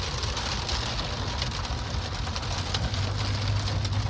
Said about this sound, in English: And through this heavy rain.